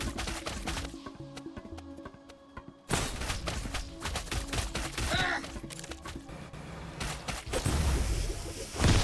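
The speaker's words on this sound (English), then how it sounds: "Got a Yuko bomb! This one's exploding." Explosions and chaotic gunfire in the co-op shooter video game Mycopunk, a sudden loud blast near three seconds followed by dense crackling bursts and impacts, with brief voices in the mix.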